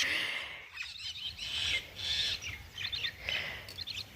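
Several birds chirp and squawk in short repeated bursts, fairly faint and continuous, with no one talking.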